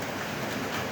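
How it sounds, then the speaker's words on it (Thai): Rain falls steadily during the rainy season, a faint, even hiss of drops with no distinct individual impacts and no voices. "นี่เสียงฝนนะ"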